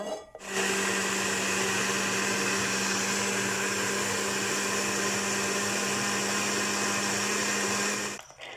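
A blender whirs continuously at high speed for about eight seconds, blending cabbage with water, loud and steady, starting and stopping abruptly.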